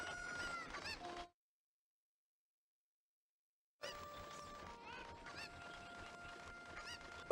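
Clucking chickens from the video game Ocarina of Time: a burst of squawky game-bird calls, a few seconds of silence, then more repeated clucks and honk-like cries over a steady game tone, fairly loud and close, with no talking.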